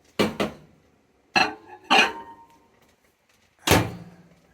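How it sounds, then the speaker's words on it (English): A bowl is set into a microwave and its door swung shut: a few sharp, close knocks and clatters separated by short pauses, with no talking. "We put it into the microwave."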